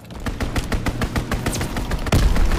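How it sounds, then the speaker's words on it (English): Rapid bursts of heavy gunfire from an aircraft strafing run in Call of Duty: WWII multiplayer, loud dense volleys of shots rolling in close with a heavy thump near the end. "Enemy strafing run incoming! Get to cover!"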